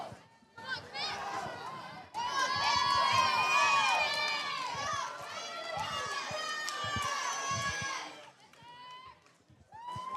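A crowd at a school swim meet between Destrehan and Hahnville cheers and shouts loudly and continuously, with many overlapping high voices, then fades briefly near the end.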